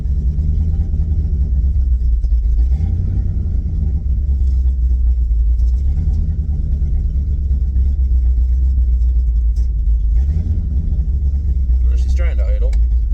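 A Buick 350 V8 in a car runs with a deep, loud, steady rumble and a slightly uneven, lumpy idle for the whole stretch, close up, with no talking.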